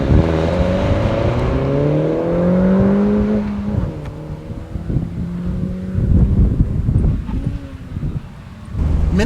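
A 2013 MINI Cooper S Roadster with manual transmission launches on a 0-60 mph run at high altitude; the engine drones and climbs through gears with pitch drops at each shift, heard close amid heavy wind rush.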